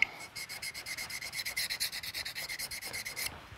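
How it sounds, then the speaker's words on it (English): Steel knife blade pushed in steady, rhythmic strokes across a honing stone, roughly a dozen close, raspy scrapes at an even pace, with no voices. "push out your thumb and press it down firmly on the honing stone, like that"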